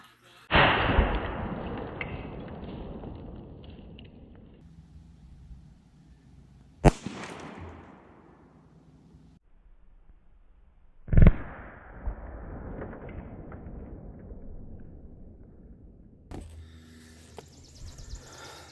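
A .38 Special revolver fires three loud, widely spaced shots into a concrete block outdoors. Each sharp report is followed by a long, rolling echo that fades before the next.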